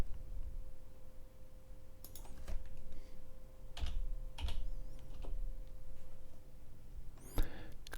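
A computer keyboard clacks in short clustered bursts as a search is typed, close-miked keystrokes with pauses between groups over a low steady hum.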